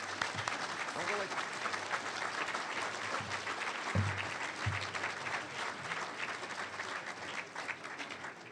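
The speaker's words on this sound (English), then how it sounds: "How about a nice round of applause?" An audience applauding at a City Club civic talk: a continuous wash of clapping from a sizable crowd, fairly distant and steady, with a few faint voices underneath.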